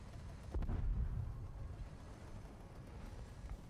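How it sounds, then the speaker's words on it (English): A nuclear blast in the War Thunder combat game lands as a faint, distant low rumble that swells quickly, then fades into a long, steady, dull roar with no talk over it. "That's a nuke."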